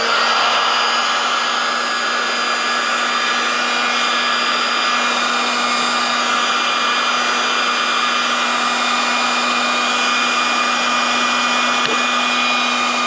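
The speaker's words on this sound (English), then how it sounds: "Cody, the way I would do that is heat them up a little bit to keep from breaking them" Heat gun warming the fuel lines of a Stihl BR 800 C Magnum backpack blower, a loud steady fan whir with a constant tonal hum throughout, close and uninterrupted.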